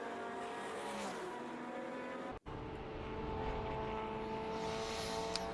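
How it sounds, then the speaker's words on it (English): Classic race cars, among them a Chevron B19, circulate at Estoril in a race, engines droning steadily at a distance with a brief cut in the sound and a rising whine late on. "So Breitmeyer, father and son, are running 4th and 5th on the road"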